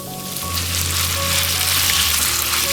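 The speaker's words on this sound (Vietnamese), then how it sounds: "Chỉ đảo khoảng vài giây thôi rồi cho thịt bò vào luôn." Beef and minced garlic sizzle loudly in a hot oiled pan over the highest heat, a dense, continuous crackling fry close by, with no voices.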